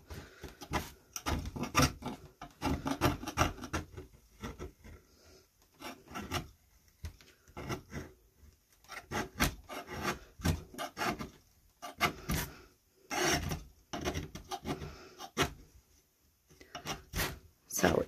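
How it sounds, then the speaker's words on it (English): Scraping hardened epoxy drips and a little wood off the back of a board, after softening with a Wagner Furno 550 heat gun: repeated close rasping strokes in irregular bursts, with a voice talking at times. "I am peeling a little bit of the wood off, but I actually don't care"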